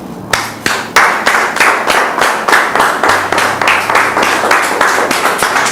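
Rhythmic clapping, strong and evenly paced, like a small audience applauding in unison, close and loud for several seconds.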